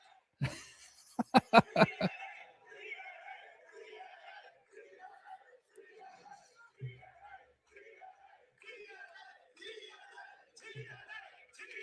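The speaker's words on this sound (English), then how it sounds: "The nerds in the crowd like it." A wrestling crowd at a post-show event reacts to an announcement, with a few sharp loud bursts early on, then scattered chatter, chuckles and cheers that stay moderate and uneven.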